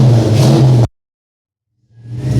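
A car engine runs loud and steady through its exhaust for under a second, then cuts to silence before a low idle rumble returns near the end.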